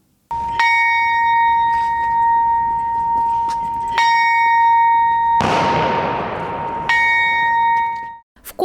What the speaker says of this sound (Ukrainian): Вкотре дзвін пам'яті пролунав у меморіальному сквері обласного центру Прикарпаття